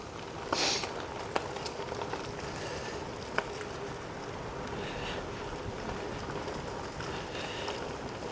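Gusty wind buffets the microphone on an autumn road bike ride aboard a Giant Fastroad, a steady broadband rush with a few sharp knocks and bumps scattered through it.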